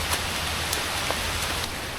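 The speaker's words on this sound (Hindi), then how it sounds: "अभी बस बारिश शुरू हो गई है" Rain begins falling near Dudhsagar waterfall in the monsoon, a steady dense hiss of drops with a few sharper splashes close by, filling the whole moment without any voices.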